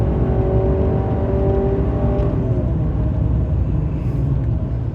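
A 2024 Honda CR-V hybrid SUV accelerates slowly on a low battery, its engine whine rising steadily under a loud, constant road and cabin rumble.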